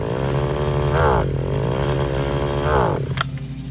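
A used RedMax lawn edger's small two-stroke engine idles with a buzzing drone, then surges twice as throttle is applied and bogs down each time, close and loud.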